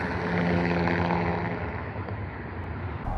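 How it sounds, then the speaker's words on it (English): A train passing near Cajon Pass in the mountains, heard as a loud, steady broadband rumble with low droning engine tones that eases slightly toward the end. "Trains."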